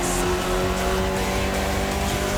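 Loud, sustained racing car engine drone in a racing video game, with a steady pitch and some tire noise, continuous throughout.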